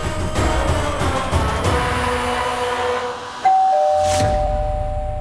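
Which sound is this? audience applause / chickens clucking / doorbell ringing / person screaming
doorbell ringing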